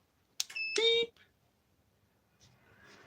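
A newly fitted air cleaner in a home workshop gives a couple of short, sharp electronic beeps close by, then falls to near silence with a faint hum.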